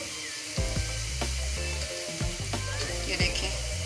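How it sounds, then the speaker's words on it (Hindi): Onions for chicken Sindhi biryani fry to golden brown in a pan, a soft steady sizzle sitting under louder tonal backing music with occasional sharper clinks. "अब इसको हम 1-2 मिनट मज़ीद भून के इस तरह से कि अच्छे से इनका कलर आ जाए।"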